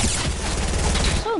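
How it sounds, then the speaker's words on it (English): A rapid burst of gunfire from a Fortnite match crackles loudly through most of the moment, with a voice speaking briefly near the end. "Why y'all shooting me, Andrew?"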